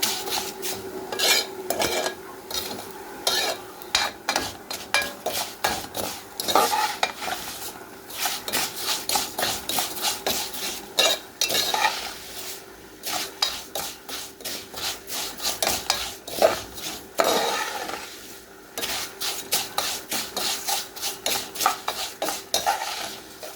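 Rice and vermicelli are scraped and stirred in a pot, making repeated gritty rasping strokes in bursts with brief pauses, close and fairly loud, no talking.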